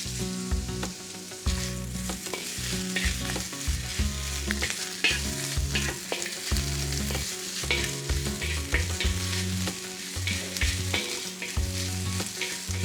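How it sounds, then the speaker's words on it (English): Tiny pieces of steak for a cheese steak sandwich frying in a pan, a dense continuous sizzle and crackle close up, steady throughout with no voices. "Now it's time to fry these tiny meat parts."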